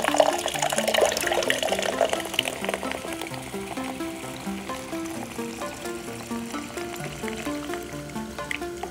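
Ninja Thirsti drink system carbonating and dispensing a drink: a loud fizzing, hissing rush of liquid and gas that eases into a steadier, softer pouring sound with a faint rhythmic pulsing underneath.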